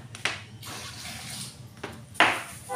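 Tap water running and splashing as a glass is filled and poured into a cooking pot for a Filipino coconut-milk vegetable stew, two short bursts of pouring over a soft background, no speech.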